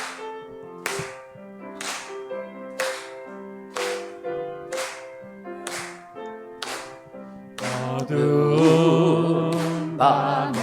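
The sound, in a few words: congregation clapping along to worship song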